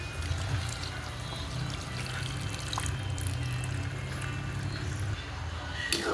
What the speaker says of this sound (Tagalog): Tapos magdagdag po tayo ng tubig pa.